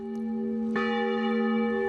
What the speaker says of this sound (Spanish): Tañen las campanas en la Capilla de la Reconciliación